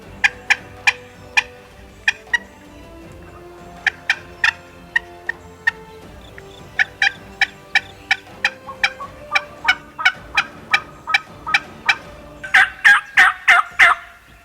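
Wild turkey gobblers in the Ozark Hills gobble again and again, some calls faint and distant and others closer, ending in a louder rapid cluster of gobbles against a quiet outdoor background.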